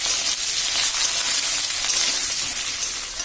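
Ingredients for a dry fish chaatne sizzle gently in a little oil over low heat, a steady broad hiss that stays even throughout with no voices.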